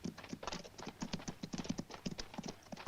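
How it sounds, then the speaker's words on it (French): Two horses ridden by arriving riders in a 1971 western film clatter along with quick, overlapping clip-clop hoofbeats. The beats are steady, close and moderately loud, with no speech over them. "Butch, voilà 2 cavaliers qui arrivent."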